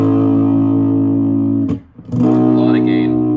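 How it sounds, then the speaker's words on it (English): An electric guitar played through a fuzz pedal on the neck pickup sustains a thick, heavily saturated chord, cuts out briefly, then rings again with a new bent note, loud and close. "A fuzz is gonna hit your amp the hardest"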